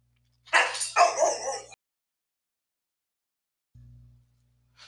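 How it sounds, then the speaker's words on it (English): A pet dog barks several times in quick succession, loud and close, before a short pause, then a brief low whimper or huff and one faint sound at the end, with no talking. "I had to stop there, pause for a moment because of my dog"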